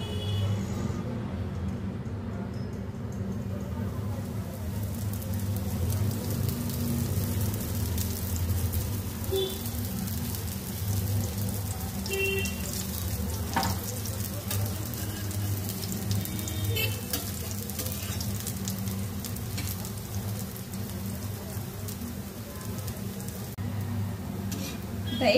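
Alu vadi slices frying in oil on a hot tawa give a steady, continuous sizzle of moderate loudness throughout, with faint background voices and a few small clinks.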